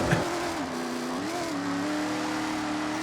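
A muscle car engine in Forza Horizon, a steady close drone that shifts pitch as it revs up and settles into a sustained run.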